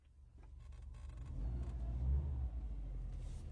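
A car engine rumbles low and steady, swelling louder as it revs up slightly before settling into a sustained idle rumble, close and without talk.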